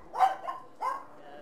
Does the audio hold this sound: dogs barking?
yes